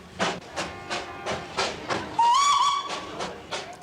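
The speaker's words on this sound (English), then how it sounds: "the little hill train runs smack down the middle of the main street" A small hill train rolls down the middle of a town's main street, its wheels clacking in a steady rhythmic beat that repeats about every third of a second, with a loud, shrill steam whistle blast partway through.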